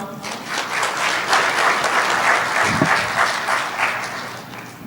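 Audience applause at a university end-of-year ceremony for foreign students in Bejaia, steady sustained clapping from a large crowd throughout, fairly loud and even.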